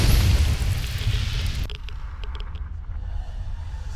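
In a Fallout game, an object pressed against an obelisk is consumed in a flash of fire: a loud, rumbling whoosh-boom that drops off abruptly into a quieter, low residual rumble.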